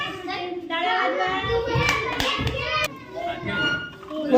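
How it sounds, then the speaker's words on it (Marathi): Young children clap at a student-parent gathering, uneven bursts of small hands among chattering kids' voices and an adult speaking nearby. "टाळ्या वाजवा"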